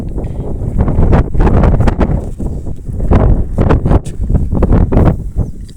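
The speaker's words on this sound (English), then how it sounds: "It's very windy here." Strong wind buffets the microphone in loud, irregular gusts, rumbling and thumping throughout.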